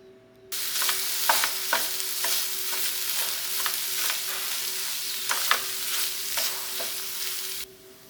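Soya chunks and diced potato sautéed with masala in a pan, a close, even sizzle with intermittent stirring scrapes for about seven seconds, starting and stopping abruptly, no voices.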